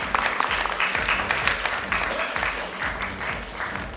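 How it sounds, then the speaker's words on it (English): A conference audience claps for a panelist at a nursing conclave in a Mumbai hotel, a dense steady wash of applause filling the hall throughout, with a few louder claps near the start. "Let's have a huge round of applause for her."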